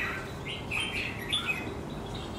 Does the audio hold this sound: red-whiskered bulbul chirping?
yes